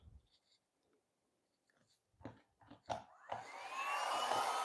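A heat gun switches on partway through after a few quiet taps and handling noises, then blows a steady, loud, rushing roar while warming gold silicone paint.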